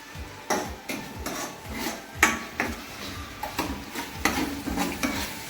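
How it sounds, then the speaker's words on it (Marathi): Chicken liver frying in a pan with ginger paste and a small amount of oil, stirred with a utensil that scrapes and clinks against the pan in repeated strokes over a steady sizzle, close and moderately loud. "आता थोडसा हलवून घ्यायचं एकदम"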